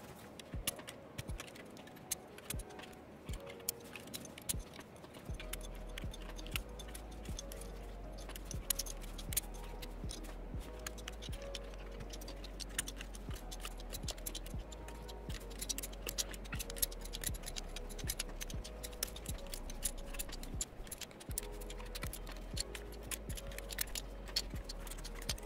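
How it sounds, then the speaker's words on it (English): Keycaps and switches are pulled one after another off a Keychron Q3 tenkeyless keyboard, a quiet, close run of small plastic clicks and ticks in an irregular rhythm, with no talking. "pull all these keycaps off, pull all the switches out"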